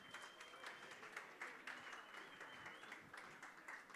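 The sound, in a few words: audience applause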